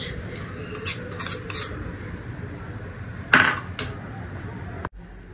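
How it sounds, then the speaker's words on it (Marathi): A spoon clinks and scrapes against a metal pot while sarson da saag is mixed, a few sharp, close taps and scrapes, spaced irregularly over a quiet background. "व्यवस्थित याला मिक्स करून घेणार"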